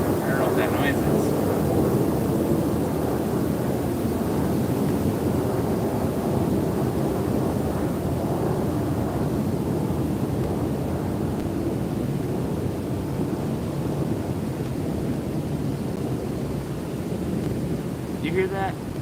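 Strong gusting wind of about 70 mph hitting near a bridge while fishing, a loud continuous rushing roar buffeting the microphone throughout.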